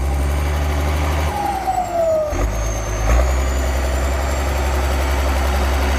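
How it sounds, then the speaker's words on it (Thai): A Ford 7840 tractor engine runs steadily with a deep, continuous low rumble while pushing out a buried tree stump, briefly shifting pitch partway through before settling back into a constant idle. "อันนี้สไตล์การขับรถแท็กเตอร์ได้แบบนี้"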